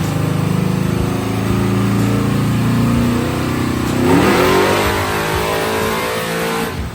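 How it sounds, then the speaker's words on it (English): A nitrous-equipped Chevrolet Malibu runs at wide open throttle, its engine droning loudly and steadily, then climbing in pitch into a harsher, rising roar about midway through, with no voices. "So now it's finally time to see if this nitrous kit's gonna work when I put this thing at wide open throttle."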